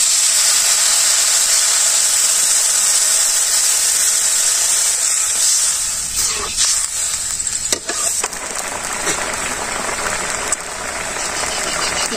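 Water poured into a hot pan of fried spices gives a loud, continuous hiss and sizzle close up, with some stirring and clinks in the middle, and no talking.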